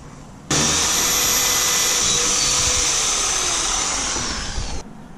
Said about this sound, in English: we can put a pilot drill hole on the mark, and then we can use a bigger drill for the final